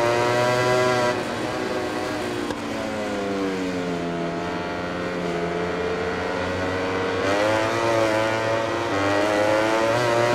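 A Ducati GP20 MotoGP bike in the MotoGP 20 racing game screams down a straight, its engine note climbing steadily through the gears with brief shift dips, loud and continuous with no talking.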